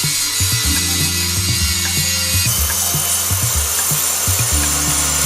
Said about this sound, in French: On commence par un ébarbage puis polissage grossier.